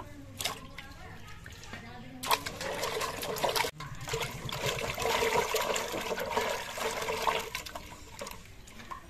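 Fresh ginger is rubbed and rinsed by hand in plenty of water, with splashing, sloshing and trickling in bursts, a sharp break partway, then continued churning close by.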